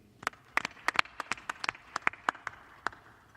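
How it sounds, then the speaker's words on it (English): Press conference crowd applauding boxing trainer Rob McCracken: a small group's scattered, uneven claps, crisp and close, with no talking over them. "Ladies and gentlemen, round of applause for Rob McCracken"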